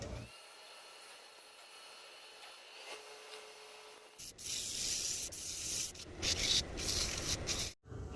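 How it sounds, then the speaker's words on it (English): A laminated wooden bowl is sanded on a woodturning lathe, starting with a steady low whir and then a louder, rough abrasive rubbing with uneven surges and a brief dropout near the end. "I'll show you a little bit of the sanding."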